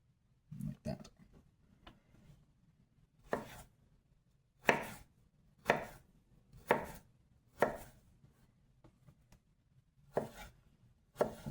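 Knife chopping ginger into thin matchsticks on a cutting board, a series of about ten sharp, close chops at an uneven pace with quiet gaps between them.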